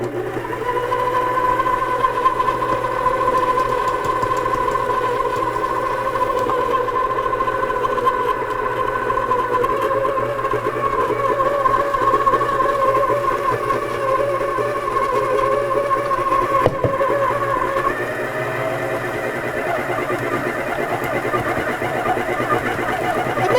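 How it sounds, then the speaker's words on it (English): A Cheftronic stand mixer churns dry ingredients in its bowl, rocking slightly as it runs, producing a loud, steady motorized whir and hum that holds continuously with a slight shift near the end. "Mixer's jumping a little bit, but it's incorporating it really, really quickly."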